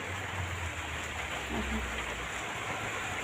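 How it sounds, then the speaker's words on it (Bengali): Rain falls with gusty wind, making a steady, even hiss that fills the whole stretch with no voices. "এখনও বৃষ্টি হচ্ছে তার সাথে ঝোড়ো হাওয়া"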